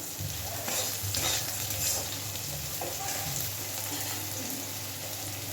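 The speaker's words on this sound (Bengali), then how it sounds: "একদম সুন্দরভাবে আগে কাঁকরোলটাকে ভেজে নেব।" Teasel gourd (kakrol) fries in oil in a pan, a continuous dense sizzle with stirring scrapes, close and fairly even throughout, with no talking.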